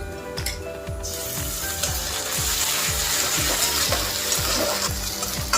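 Ginger garlic paste sizzles loudly in hot oil in a pan, a steady crackling fry with rhythmic scraping strokes of a spoon stirring it throughout.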